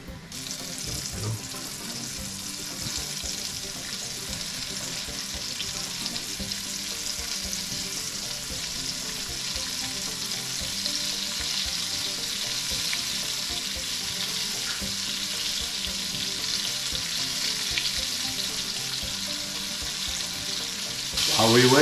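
A batch of breaded deer steaks for chicken-fried steak sizzles loudly and steadily in a frying pan, a continuous close crackling hiss that runs on without talk.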